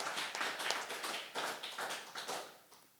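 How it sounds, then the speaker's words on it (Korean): A church congregation claps hands in thanks during a Korean worship service, giving dense, continuous clapping in uneven bursts that fades near the end. "뜨겁게 우리 하나님께 감사의 박수를 치시 바랍니다."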